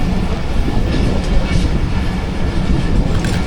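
The Rehman Baba Express rolls past Shahdadpur station without stopping, a loud continuous rumble of rail cars with steady wheel clatter close by.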